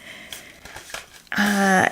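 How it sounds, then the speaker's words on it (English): Tarot cards from an Elemental Wisdom deck are shuffled by hand, soft papery riffles and taps building into a louder, dense ruffle near the end. "I'm just going to shuffle my cards"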